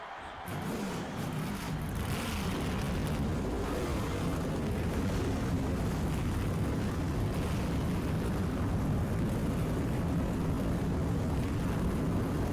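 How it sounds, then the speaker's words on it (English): Stock car engines rumble to life together in NASCAR Thunder 2004 at Phoenix, a dense, loud, low roar that swells within the first second and holds steady throughout. "Gentlemen, start your engines."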